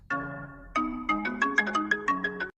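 A mobile phone ringtone plays alone and close, a bright electronic melody of repeated rising tones that stops abruptly after about two and a half seconds.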